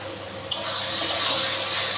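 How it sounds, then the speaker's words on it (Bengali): Water pours from a tap into mutton curry in a pot, starting abruptly after a brief pause and then running as a steady, loud, close splashing stream, with no talk over it. "এবার আমি এর মধ্যে একটু জল দিয়ে দেবো, দিয়ে কষাবো।"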